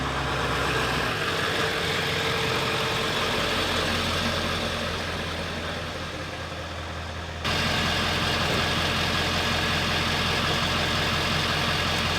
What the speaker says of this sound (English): let's get the truck started